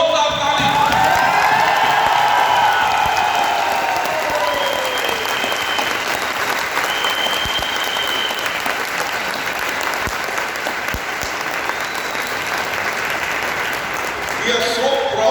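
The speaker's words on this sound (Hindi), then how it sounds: "तो आप सब लोगों के लिए एक जोरदार ताली।" Audience at a Vestige leadership training event in Cuttack giving loud, sustained applause that fades gradually, with crowd noise and someone speaking over the clapping at the start.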